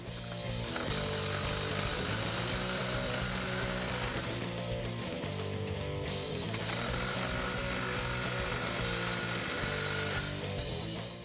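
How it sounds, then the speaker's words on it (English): Power tool tightening exhaust X-pipe clamps on a 2015-2023 Mustang GT, a continuous loud whirring buzz with a brief pause midway, close and steady, with no talking. "Now we'll line up the clamps and tighten it down."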